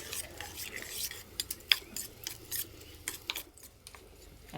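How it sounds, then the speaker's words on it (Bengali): Food being mixed in a pot with green chili, sugar, lemon juice and reserved boiled water for til fulkopi: irregular scraping and clinking of a utensil against the pot, close and moderately loud, in uneven strokes without talk. "ভালো করে মিশিয়ে নেব।"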